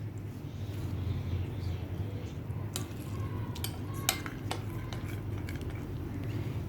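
A spoon scrapes and clinks against a bowl while beaten egg, fried potato and onion are stirred together for a Spanish omelette, giving a few sharp taps over a soft, steady low hum of the kitchen.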